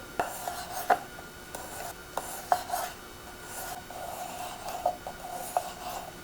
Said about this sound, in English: Slice your potato, and you need to slice it really, really thin.